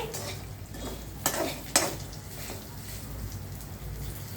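Bitter gourd fry being stirred and mixed in a pan, a steady soft sizzle with a couple of sharper scraping clacks of the spatula, close and moderately quiet.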